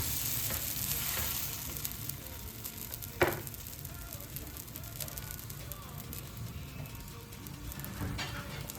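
Jaffna-style dosa batter sizzles on a hot pan in a steady, faint crackling hiss, with one brief sharp clack partway through.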